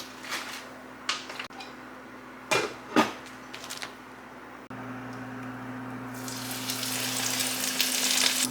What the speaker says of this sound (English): Just fry them in oil heated to 180 degrees until they're golden brown and crispy.